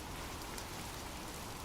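Steady rain falls without a break, a dense wash of drops hitting surfaces, even and continuous throughout with no voices.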